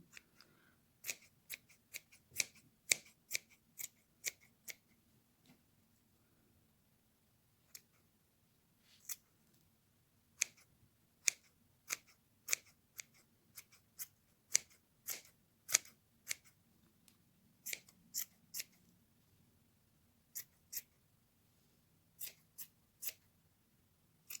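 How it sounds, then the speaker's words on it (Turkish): Scissors snipping excess yarn from a pompom scarf, sharp close clicks in irregular bursts of several cuts separated by pauses, quiet and alone. "keserken de fazladan fazladan kesip küçücük bırakmayalım"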